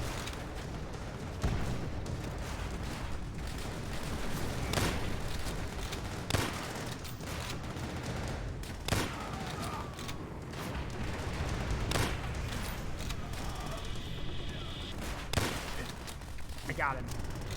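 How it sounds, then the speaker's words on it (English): Sharp rifle shots crack at intervals at bottles and plates in Call of Duty: World at War, single spaced bangs over a low, constant background rumble, with a voice talking between shots. "Shoot those bottles and plates."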